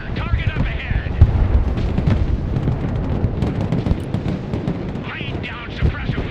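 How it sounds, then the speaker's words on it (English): Sustained suppressive gunfire from an armored vehicle in the Broken Arrow war game, a dense continuous rumble of shots and explosions with voices talking over the battle. "Laying down suppressive fire."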